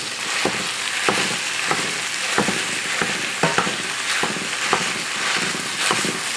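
Ground meat from one-pound packages sizzles and browns in a pan, a dense steady fry with rhythmic scraping strokes as the meat is broken up and stirred.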